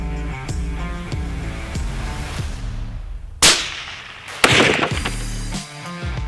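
A Hammer bullet fired into a ballistic gel block at an outdoor test: two sharp, loud gunshot cracks separated by about a second, over steady background music with no talk.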